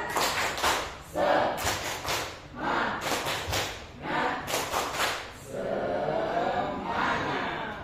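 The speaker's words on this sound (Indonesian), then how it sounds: "Tepuk semangat" Teachers and staff at a school positive-culture workshop perform a tepuk semangat spirit-clapping routine: bursts of group claps in a patterned rhythm, broken by short pauses and chanted voices, loud and close in a room.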